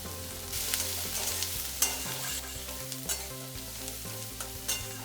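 Green chilies and onions sauté in a pan with a steady sizzle, broken by repeated scraping stirs of a spoon at a brisk, uneven rhythm, close and clear.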